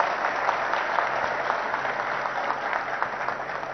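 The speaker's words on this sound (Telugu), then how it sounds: "ఒకసారి చప్పట్లు కొట్టాలి మంచి పని చేసిన వాళ్ళు" Dense, steady applause from a large audience at the inauguration of the Radiant Appliances & Electronics plant in Hyderabad, a continuous wash of clapping at an even level with no voices breaking through.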